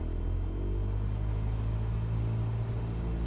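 A light aircraft's engine powers up for takeoff in Microsoft Flight Simulator, a steady droning rumble with a constant low hum that holds throughout without a pause.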